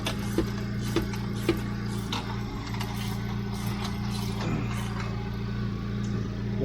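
Wrench tightening an engine mount bolt on a 10th-generation 2016–2021 Honda Civic during a mount upgrade: scattered close metallic clicks and ticks over a steady low mechanical hum, with no talking.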